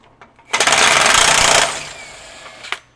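A DeWalt DCF961 20V high-torque impact wrench hammers in reverse, loosening a bolt in a rapid, loud burst for about a second, then spins down, followed by a faint click.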